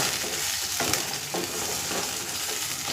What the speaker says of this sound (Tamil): இது எல்லாத்தையும் எண்ணெயில் கொஞ்சம் வதங்கணும்.